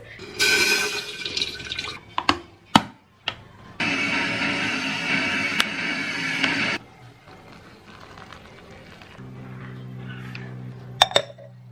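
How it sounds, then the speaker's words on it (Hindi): Hot water poured from a kettle into instant food in a new crockery bowl, a steady broadband rush lasting about three seconds, with clinks and handling noises before and a low hum after. "बस गर्म पानी ऊपर डोल देना है एंड ये खाने के लिए तैयार होंगे"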